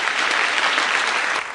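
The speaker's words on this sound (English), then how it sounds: "I think we should give her a tremendous amount of appreciation and applause" Steady, dense applause from a congregation in a church, many hands clapping loudly and evenly before tapering off at the very end.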